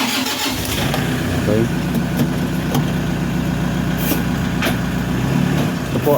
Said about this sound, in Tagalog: I-atras na po ni Sir yung sasakyan para mas makita po natin.